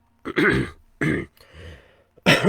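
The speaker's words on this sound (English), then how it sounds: "just clearing my throat there" Several short, rough throat-clearing rasps in quick succession, close and fairly loud, separated by brief pauses.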